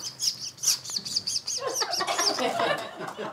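A voice actor imitates a baby seagull, giving a run of quick, high, squeaky chirps and peeping calls, close and fairly loud, with no other talk.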